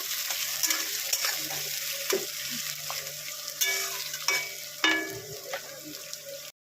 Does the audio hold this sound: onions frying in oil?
yes